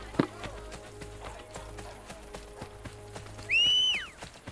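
Horse hooves in the video game Assassin's Creed Brotherhood clop in a quick irregular run of taps, ending in a loud drawn-out whinny near the end.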